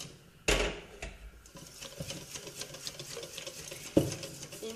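A spoon stirs milk into flan batter in a saucepan, giving faint soft scraping and sloshing with a couple of sharper clinks against the pan.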